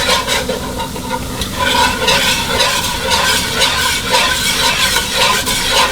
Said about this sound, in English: you're frying the flour right there